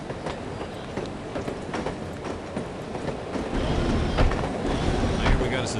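A train rolls along in the video game No One Lives Forever, with steady rumbling and rhythmic clickety-clack of the wheels, growing louder toward the end.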